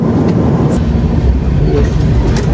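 The Mandovi Express rumbles along the line between Mumbai and Goa, a loud, steady, close roar of the train in motion with no clear voices over it.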